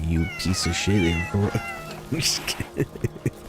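A pet cat meows several times close to the microphone, drawn-out and wavering, with someone talking over and between the calls.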